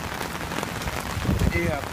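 Steady rain drumming on surfaces during a stormy commute, a dense close patter filling the whole moment, with a brief spoken word near the end.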